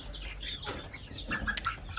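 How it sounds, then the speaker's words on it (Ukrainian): Farm chickens, including Marans and Wyandotte breeds, cluck and flap their wings nearby, with a few short sharp calls rising over quiet background noise. "Це наші курочки тут і марани, і ямцинамі"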